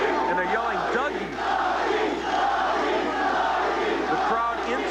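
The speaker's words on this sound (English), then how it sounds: "And they're yelling, Dougie." Boxing crowd at a WBO middleweight title fight yelling and cheering loudly and continuously, a dense arena roar with rising shouts and no clear gaps.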